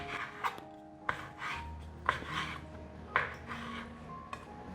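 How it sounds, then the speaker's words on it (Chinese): Knife chopping shiitake mushroom stems on a cutting board, five crisp evenly spaced chops about a second apart, close and fairly quiet, with faint kitchen hum beneath. "香菇角切下来，切碎。"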